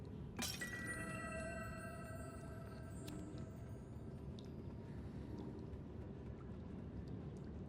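A figurine shatters in the video game Little Nightmares: one sharp, loud glass-like crash near the start, followed by ringing tinkling fragments that fade into a low, steady ambient rumble.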